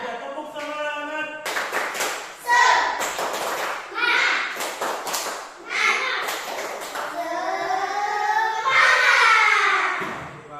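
Schoolchildren in a classroom perform a rhythmic 'tepuk semangat' clapping chant led by their teacher, with bursts of sharp group claps alternating with children's chanting voices and fairly close, lively sound.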